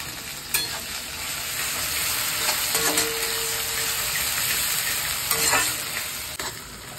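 Onions sizzle steadily in a pan for a chicken curry while a spoon scrapes and stirs them now and then, close by, with no voices.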